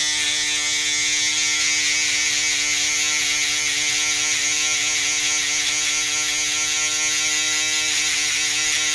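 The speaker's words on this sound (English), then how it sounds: "Now I will be using the balder to get the hair nice and tight on the scalp right here." Barber's electric balder trimmer buzzing close to the scalp during a high fade haircut, a loud, steady high-pitched motor hum with dense harmonic whine, running continuously without talk.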